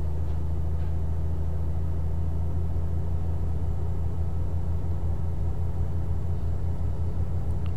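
Truck engine in the video game Euro Truck Simulator 2, a steady low rumble droning continuously as the truck accelerates, with no talking over it.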